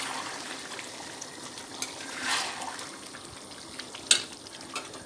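Mutton curry simmering in a pot, a soft continuous bubbling and sizzling with occasional faint pops and clinks, close and quiet.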